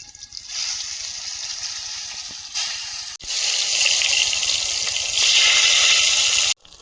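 Eggplant and fish fry in hot oil, a loud, close, continuous hiss that surges and briefly cuts out twice as the pan is handled.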